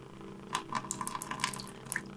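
Warm water sloshing and dripping in a bowl as it is handled, a quiet series of small splashes and trickles close by, irregular and soft, with no talk.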